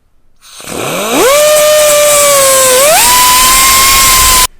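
A power cutting tool slicing through the threaded stud of a lower sway bar end link on a Toyota Tacoma during a coilover lift install: a loud whine spins up, dips and rises in pitch, then holds steady for several seconds before stopping abruptly, no voices.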